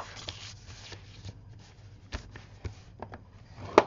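Black cardstock being scored along a 4.5-inch line on the 9-inch side, a quiet series of scraping taps and drags with a sharper tap at the end, close and alone.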